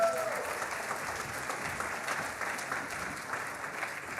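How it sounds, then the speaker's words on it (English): An audience at a university info challenge awards ceremony applauds the incoming emcee, a dense, even wash of many hands clapping throughout. "Give her a round of applause."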